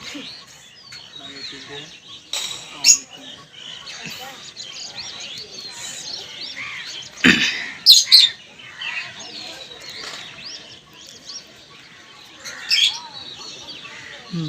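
Pigeons on a rooftop during a pigeon-flying tournament give soft calls and chirps over a steady murmur, with a couple of sharp bursts of wing flapping in the middle and faint background activity.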